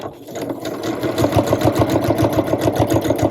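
A sewing machine runs steadily, stitching strips of denim cut from old jeans, its rapid even needle rhythm loud and close with no pauses.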